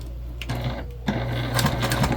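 A sewing machine back stitches the binding on a travel sling bag, a steady mechanical whir that shifts in pace partway through, fairly close and loud with no talking.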